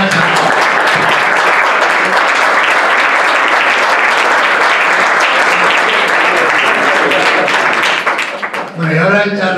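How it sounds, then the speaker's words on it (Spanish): Large audience at a university ethics debate breaks into loud, sustained applause that fills nearly the whole stretch, then tapers off near the end as a voice starts to speak. "pediría que le diéramos un aplauso grande"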